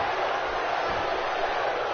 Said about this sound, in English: by the sound of this crowd